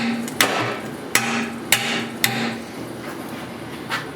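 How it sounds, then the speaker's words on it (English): A hammer strikes parts of a 2006 Club Car DS 48-volt electric golf cart four times, sharp and roughly half a second apart, followed by a softer fifth blow after a pause. "I'm going to hit it with the hammer."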